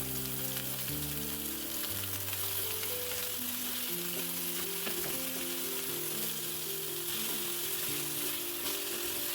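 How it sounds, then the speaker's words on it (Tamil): Sliced onions frying in hot oil with cinnamon, cloves and cardamom for a Tamil egg gravy, giving a steady, dense sizzle that carries on evenly throughout with no voices. "எண்ணெய் சூடானதும் 2 பட்டை, 2 கிராம்பு, 2 ஏலக்காய் போட்டு கூடவே 2 பெரிய வெங்காயம் நீல வாக்கில் அரிஞ்சு சேர்த்துக்கணும்"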